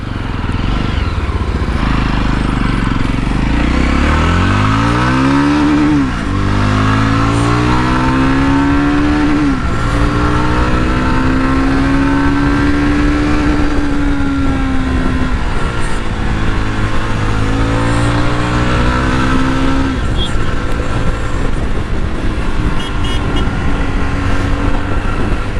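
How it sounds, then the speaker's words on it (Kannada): An adventure motorcycle engine revs while riding, drowned in steady wind rush, with its pitch rising and falling through gear changes and a long sustained drone. "ADV ಬೈಕುಗಳೇ."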